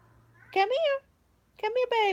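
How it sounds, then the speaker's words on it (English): A domestic cat gives two drawn-out, rising meows close by, separated by a short pause, while a person speaks softly over and between the calls. "She's a cranking up meowing."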